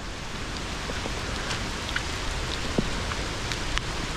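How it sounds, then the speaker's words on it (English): Heavy rain falls steadily in a Sri Lankan outdoor setting, a dense even hiss with scattered nearby drops pattering throughout. "the rain is getting too much"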